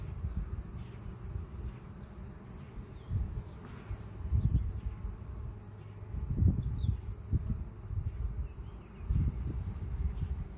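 Honeybees work at a busy hive, a faint, steady low buzz that swells softly now and then, with no voices over it.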